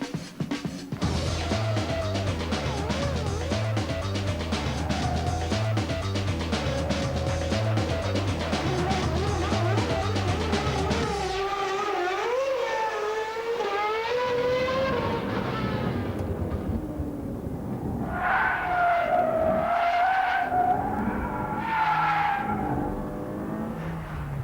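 A Jordan Formula One car races at Spa. Its loud, close engine screams continuously, with revs climbing and dropping sharply through gear changes and braking, and the pitch swoops as it accelerates away.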